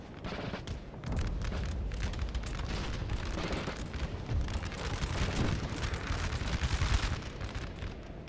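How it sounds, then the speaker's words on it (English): Musket volleys crackle across a battlefield in Napoleon Total War, a dense, sustained rattle of overlapping gunfire and booms at moderate distance, continuing for several seconds without a pause. "Lost a couple of cavalry in that volley."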